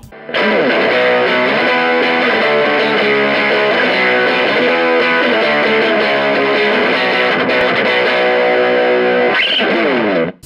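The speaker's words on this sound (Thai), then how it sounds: "1. เสียงแตก distortion rock rock" An electric guitar plays continuously through heavy distortion from a Valeton Dapper Mini effects pedal, thick and loud, sustained chords ringing for about ten seconds.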